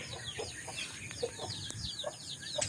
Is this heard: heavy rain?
no